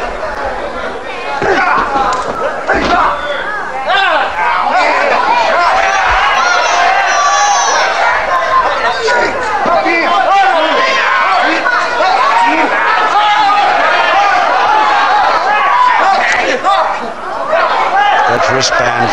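A full house at a boxing match in a civic centre hall keeps up loud, continuous chatter and murmuring with scattered laughs and calls, while a commentator talks over the din.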